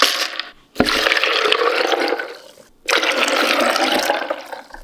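Four cups of water poured over almonds in a blender jar, two long splashing pours with a brief pause between them, close and fairly loud.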